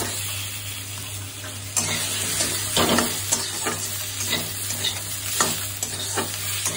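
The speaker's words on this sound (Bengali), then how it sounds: "এবার আমি টমেটোটা দিয়ে দেবো" Tomatoes dropped into a pan of frying potatoes and onions, the sizzle jumping louder as they land, then continuing with scraping stirs and faint watery sounds, no voices.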